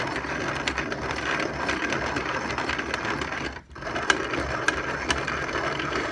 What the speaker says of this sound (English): Now we're just going to dump this back in, and we're going to do a second grind.